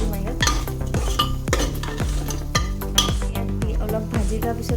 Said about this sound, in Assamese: এইখিনি এতিয়া আমি ইয়াত দি দিম ধুনীয়াকৈ অলপ ফ্ৰাই কৰি ল'ব লাগিব